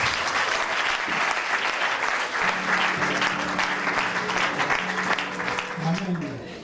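A congregation at a deliverance church service breaks into steady, lively applause for the Lord, with dense clapping throughout and a sustained tone from a keyboard or voice partway through.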